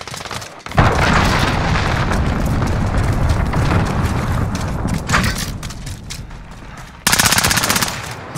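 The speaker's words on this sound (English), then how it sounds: "Enemy cruise missile incoming." Heavy Call of Duty: Modern Warfare battle noise, a loud sustained roar of explosions and gunfire with a dense burst of automatic fire near the end, consistent with a cruise missile strike.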